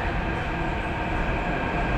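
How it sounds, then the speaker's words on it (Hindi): A Delhi Metro Red Line train pulls into a station on the line toward Inderlok, giving a loud, continuous, close rumble of wheels and carriages with no speech. "एक ये मेट्रो आ रही है, उधर की आ रही है इंद्रलोक के लिए।"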